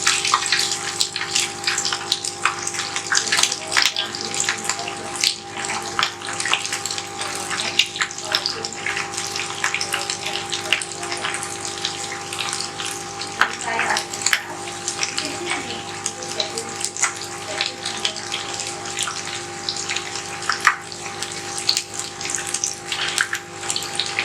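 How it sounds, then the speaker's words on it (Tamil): Chicken lollipops made from chicken wings frying in medium-hot oil, a steady broadband sizzle and bubbling that runs continuously and fairly loud for the whole stretch, with no voices over it. "இப்போ எண்ணெய் சூடாயிடுச்சு, நம்ம ஃப்ரை பண்ணிக்கலாம்."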